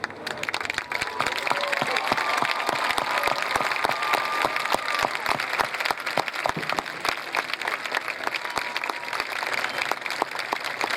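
Sustained audience applause at a Bloomfield High School graduation ceremony in 2024, dense steady clapping filling the whole stretch at an even level, with a faint voice or tone briefly audible beneath it.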